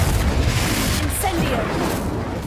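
In Hogwarts Legacy, a Confringo spell blasts as a loud, dense burst that rumbles through the opening second, then thins to a rough noisy tail.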